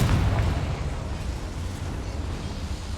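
A Confringo blasting-spell explosion in Hogwarts Legacy, a loud booming blast with heavy low rumble that roars continuously and slowly fades over a few seconds, with no voices.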